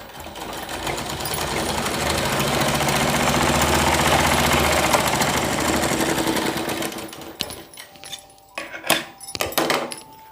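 Someone stitches a four-panel petticoat on a sewing machine in a long, steady mechanical run of about seven seconds, then the motor stops and gives way to scattered clicks and handling noises.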